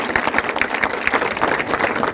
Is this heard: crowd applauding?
yes